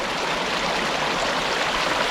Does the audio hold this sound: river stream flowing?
yes